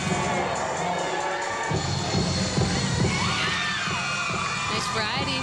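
An arena crowd at the 1998 Big Ten Women's Gymnastics Championships cheers after a routine with a sustained roar, shouts and rising whistles, while a commentator's voice runs underneath.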